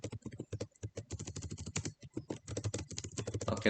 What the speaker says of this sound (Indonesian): Nah, jadi waktu kita ketik di sini